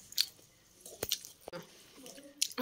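Close, quiet chewing of rice with paneer curry, soft wet mouth sounds and a few sharp smacks spread across a short stretch, with faint background murmur.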